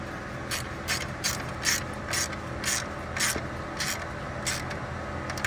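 A ratchet tightens a 10mm nut on an engine bracket of a Toyota 3.5L V6 (2GR-FE), giving repeated sharp clicking bursts in a steady back-and-forth rhythm, close up, with a low background hum and no talking.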